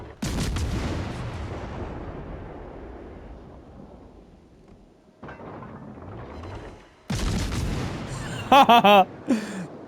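Cruiser guns blind firing in a naval video game: heavy booming salvos and rolling blasts that fade into a long tail, then a second volley and a final loud burst with sharp mechanical whines near the end.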